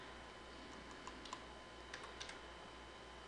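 Soft scattered keystrokes as a command is typed on a computer keyboard, fairly faint over a low steady hum, with a louder clack at the very end.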